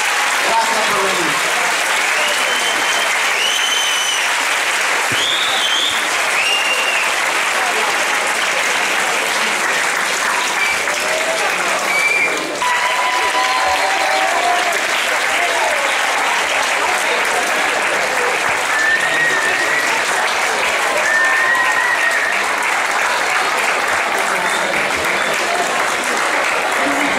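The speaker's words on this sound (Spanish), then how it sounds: "fuerte aplauso para nuestros compañeros, que lo han hecho también" Sustained audience applause at a cinema event, loud and steady for nearly half a minute, with cheering voices and whistles mixed into the dense clapping.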